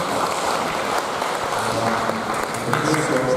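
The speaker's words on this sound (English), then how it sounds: "Let's give applause to our speakers." Clapping for the presenters at an international summer course session, a steady, diffuse roar of many hands with some talk layered underneath.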